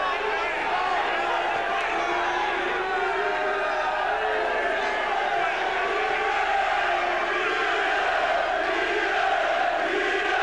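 Boxing fans at a 1993 championship fight cheer on fighter Billy Schwer, a dense, steady roar of crowd voices and shouts filling the whole stretch with no lulls.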